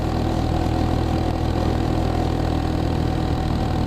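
Geon X-Road 250 motorcycle engine under hard throttle in third gear while lane-splitting through city traffic, a loud, steady, close-up drone with no talking.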